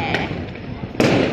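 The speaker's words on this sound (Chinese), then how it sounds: "密密麻麻的人在那边放鞭炮" Firecrackers burst under a bridge at New Year in Sanxia, a couple of sharp cracks amid crowd noise, the second pop louder and closer, with voices in the background.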